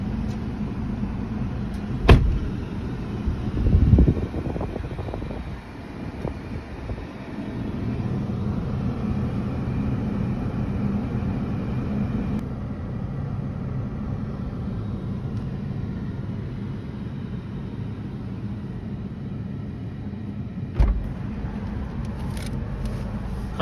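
A touchless automatic car wash runs with a steady low rumble and hiss that holds for most of the stretch, broken by a few sharp knocks and clunks near the start and again toward the end.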